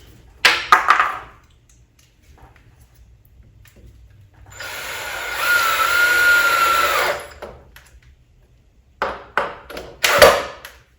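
Power drill driving screws into the wood of a DIY swarm trap, one sustained whirring run of about three seconds, framed by short clattering knocks before and after.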